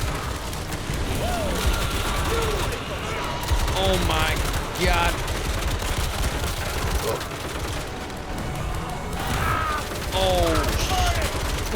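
Turret gunfire in Crimson Desert rattles continuously through a chaotic battle, with dense bursts, mechanical clatter and booms, while a voice exclaims briefly over it.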